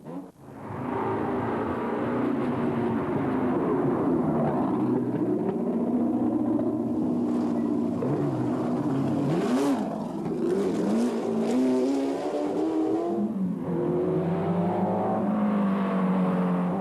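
Racing engines roar on a 4 km rally special stage with a tight walled hairpin, among them a Ferrari 308 Group 4, loud and close with rising and falling revs across the whole stretch and no talk.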